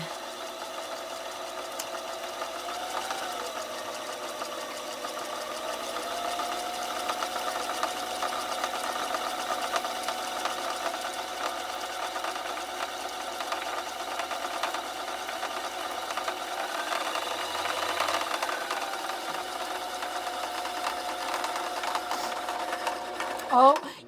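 A sewing machine runs steadily for the whole stretch at close range, a continuous whirring motor hum with a mechanical needle rhythm, a voice briefly speaking over it.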